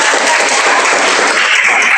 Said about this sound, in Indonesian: Tepuk tangan untuk anak kelas 82.